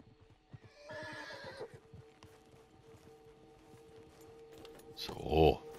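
A horse in the video game Red Dead Redemption 2 Online whinnies briefly, then after a pause hooves clop and the horse snorts loudly up close, over a steady background hum.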